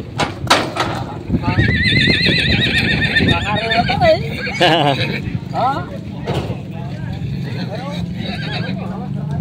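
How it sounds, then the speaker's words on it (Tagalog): A horse whinnies loudly at a livestock auction market in Lucena, Quezon, its shrill wavering neighs rising over hoof clatter and busy crowd chatter, with people talking nearby. "Pulang kabayo."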